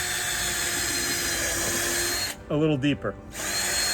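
A power drill runs continuously while boring pilot holes for screws on a kayak and canoe rack build, its whine steady and close, briefly dropping as someone speaks a few words before it resumes.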